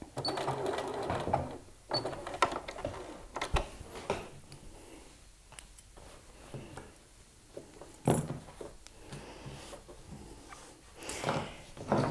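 A sewing machine backstitching across denim while sewing the front pockets of a pair of jeans: steady close mechanical whirring in short bursts, stopping and restarting, with sharp clicks and pauses between runs.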